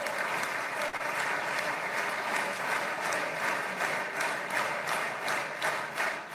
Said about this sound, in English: Ivanka Trump, Jared Kushner getting the applause right now